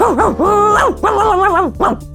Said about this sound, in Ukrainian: На цей крик прокинувся пес, який охороняв ферму і гучно загавкав